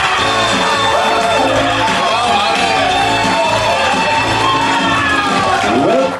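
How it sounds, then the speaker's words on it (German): A studio audience at a Christmas late-night show in Cologne roars, with loud, sustained cheering, whoops and shouts from a large crowd. "Vielleicht kann ich einmal hören, wie euer Applaus in Köln geschmeckt hat."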